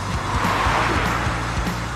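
A Toyota Prius hybrid engine strains under hard acceleration, giving a steady droning hum with a low, buzzing tone throughout a short stretch.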